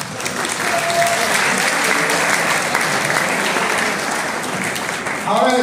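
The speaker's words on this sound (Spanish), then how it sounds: "Un aplauso para Elizabeth, por favor." An audience applauds steadily for several seconds in a hall during an election-statistics presentation, a dense, even wash of clapping close by, with a voice breaking in at the very end.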